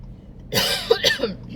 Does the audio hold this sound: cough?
yes